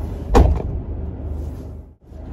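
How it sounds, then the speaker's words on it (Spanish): A door closes with a single dull thud near the start, followed by quiet room tone with a brief dip before the low background returns. "Cierra la puerta."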